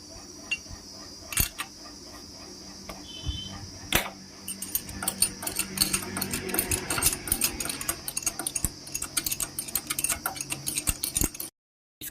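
A 16 mm spanner unscrews the spark plug on a Hero HF Deluxe motorcycle engine, giving close, rapid metallic clicking and ratcheting that grows busier and denser before cutting off abruptly.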